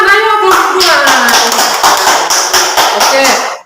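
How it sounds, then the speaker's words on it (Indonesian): A classroom group claps for the second group of students after they present their traditional Sikka bolo pagar cakes, loud close rhythmic hand claps from a small crowd with voices mixed in, stopping abruptly at the end. "Semua tepuk tangan, ayo kelompok 2."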